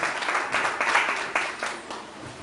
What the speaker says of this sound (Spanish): Vamos a darle un fuerte aplauso a Dios por la vida de ellos.